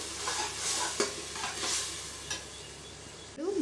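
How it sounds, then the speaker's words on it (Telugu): Masala sizzles and fries in hot oil for a blood curry while a spoon stirs it in repeated scraping strokes. The sound is close and fairly soft, with no talking. "పచ్చివాసన అంతా పోయి ఆయిల్ పైకి తేలే వరకు బాగా వేయించుకోవాలి"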